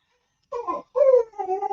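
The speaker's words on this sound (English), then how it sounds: "the dogs are going to start barking" Dogs whimpering indoors: two or three short whiny yelps and a drawn-out whine in quick succession, close and fairly loud against near silence.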